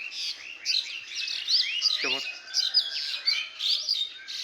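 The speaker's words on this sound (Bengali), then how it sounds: "পাখিদের কিচিরমিচির শব্দ মুখরিত" Small birds chirp and twitter in a steady, busy chorus on a foggy morning, calls overlapping close by with a brief lower call in the middle.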